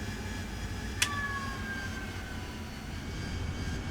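An AV-8B Harrier jet engine in the DCS flight simulator runs as the aircraft slows for landing, a steady broad roar with a faint whine and one brief sharp click near the start, no voices.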